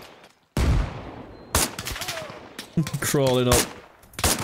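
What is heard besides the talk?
gunfire in the video game Arma Reforger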